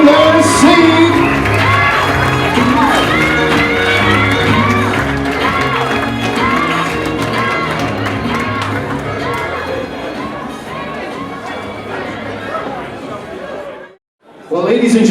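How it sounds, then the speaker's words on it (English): A large crowd of wedding reception guests claps, cheers and whoops continuously with overlapping chatter, loud and lively, then briefly drops out near the end. "let's give an applause for Chris and Sarah"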